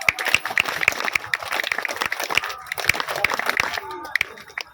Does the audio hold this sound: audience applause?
yes